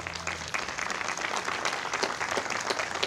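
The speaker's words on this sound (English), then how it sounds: "let's give them a round of applause today" An audience at a September 11 remembrance ceremony applauds first responders, a dense, even patter of many hands clapping at moderate distance throughout.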